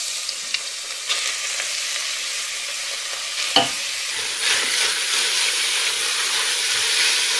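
Minced meat frying with onion and garlic in a pan for cabbage roll soup, a loud steady sizzle with occasional spoon scrapes, swelling as fresh meat hits the hot fat.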